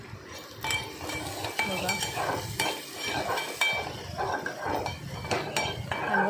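Potato and tomato curry being stirred in a pan, with a spoon scraping and clinking against the metal in a steady run of knocks over a faint sizzle; a voice speaks briefly.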